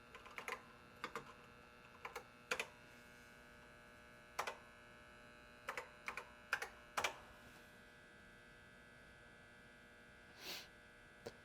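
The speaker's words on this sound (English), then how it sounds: "I'm sure I typed something wrong" Keys clack on a TI-99/4A computer keyboard in short, irregular bursts of presses with pauses between them, close and fairly quiet over a steady mains hum.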